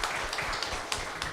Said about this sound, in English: a big round of applause to all the participants